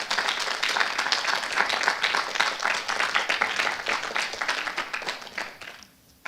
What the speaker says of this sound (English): let's give the parents a round of applause